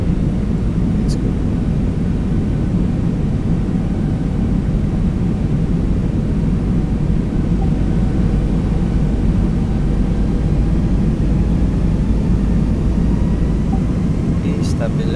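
Engines of a ToLiss Airbus A321 roar in a flight simulator during takeoff, a loud continuous low rumble throughout.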